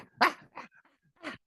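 A human voice imitates a barking Doberman, giving three short, gruff barks in quick succession, close and alone.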